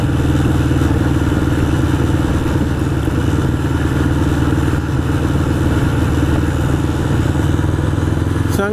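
A 1981 Honda CB750 Custom motorcycle runs with a steady, loud, close engine drone and a low pulsing throb. It stays constant from start to finish, with some wind noise riding over it.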